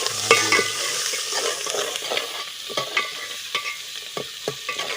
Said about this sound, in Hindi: हाँ घी आवाज दे रहा है तो घी डाल दो, यो मिसाला डाल दो।